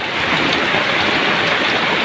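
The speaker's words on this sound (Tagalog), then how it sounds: "Napakalakas ng ulan." Heavy storm rain pours down in a loud, dense, unbroken roar that stays constant throughout, with no voices.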